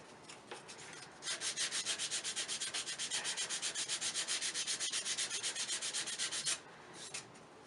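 Rhythmic back-and-forth sanding strokes on a wooden ring dish, close and steady, a fast even rasping pulse lasting several seconds before easing off, with no talking.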